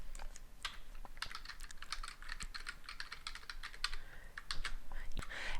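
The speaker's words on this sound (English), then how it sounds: "So let's type that in here." Rapid typing on a computer keyboard, with bursts of close, crisp keystrokes clattering through a quiet room and no talk.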